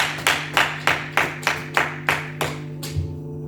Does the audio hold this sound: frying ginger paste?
no